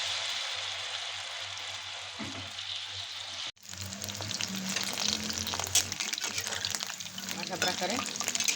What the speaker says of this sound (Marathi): अशा प्रकारे आपल्याला हे तळून घ्यायचे. मध्यम गॅसवर तळून घ्यायचं.